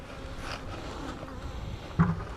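Honeybees buzz around hives during an inspection, a soft continuous drone close by, with a louder thump near the end.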